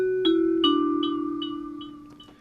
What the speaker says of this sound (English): And then with the Spaceship delay,